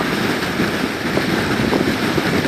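Floodwater from Hurricane Matthew pours out of a neighborhood pump in a loud, steady rushing roar, close and continuous with wind buffeting mixed in.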